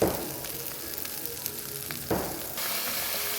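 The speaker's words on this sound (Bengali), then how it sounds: "আলুটা একটু ভেজে নিবে, মশলা দিয়ে দিয়েছে, এখন একটু ভাজা ভাজা করবে" Potatoes fry in a pan with cumin and spices, giving a steady close sizzle broken by two brief clatters of stirring.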